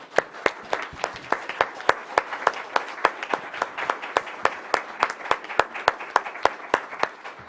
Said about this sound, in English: Now we applause.